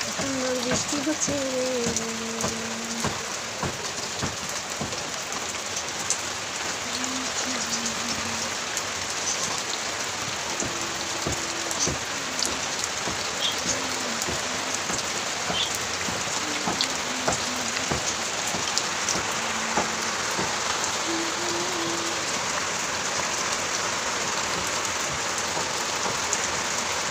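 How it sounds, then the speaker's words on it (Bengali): Steady rain falling on a rainy day, a constant close patter on surfaces that runs throughout, with a person talking intermittently over it. "বৃষ্টি হচ্ছে।"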